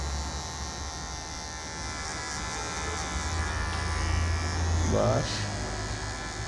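Electric hair clipper fitted with a 0.75 guard buzzes steadily up close while cutting hair, its low hum shifting briefly as someone speaks a word over it.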